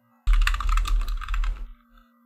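Rapid typing on a computer keyboard while writing assembly code, a close, dense flurry of clacking keystrokes lasting about a second and a half before stopping, with no talking.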